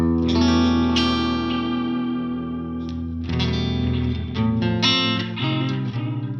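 Clean, chimey electric guitar through a UA Ruby '63 Top Boost amp with the cut control turned fully back and a blue speaker, ringing chords and bright picked notes with some effects shimmer, played alone and up close.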